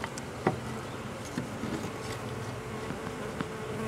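Package bees hum and buzz steadily while being installed into a top bar hive, a dense, continuous drone with a few brief closer buzzes passing by, with no talking.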